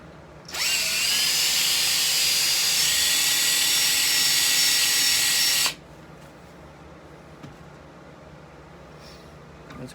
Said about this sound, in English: run my drill through it again